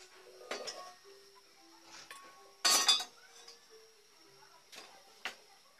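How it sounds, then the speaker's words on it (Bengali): Metal pans and utensils clink and knock on a kitchen stove as a pot of khesari dal is taken off and another pan set down, a few sharp scattered clanks with a louder clatter midway. "এবার আমরা এটাকে নামিয়ে অন্য একটা প্যানে এটাকে নামিয়ে অন্য একটা প্যান বসিয়ে নিচ্ছি।"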